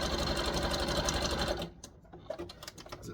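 Sewing machine running a fine, satin-like stitch on elastic for wrestling tights, fast and steady at close range for about a second and a half, then stopping into quiet handling noises and a few light taps.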